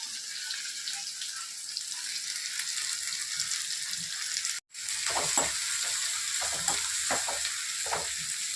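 Onions sizzling and crackling in hot oil with tempering spices for a Telugu amaranth curry, a steady broadband fry broken by a brief gap midway, then stirring scrapes and pops up close.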